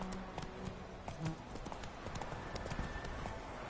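Hooves of a galloping horse in The Witcher 3 pound out a quick, even clip-clop rhythm under faint background game sound.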